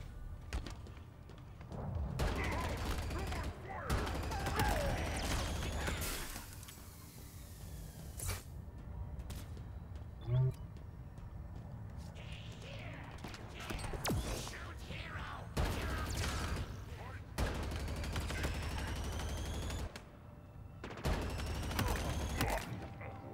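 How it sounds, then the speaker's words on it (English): Halo Infinite weapon fire arrives in repeated loud bursts of gunfire separated by short lulls, with booms and mechanical clatter between volleys across about twenty seconds of heavy battle noise. "was it burst firing? Because it was like overheating."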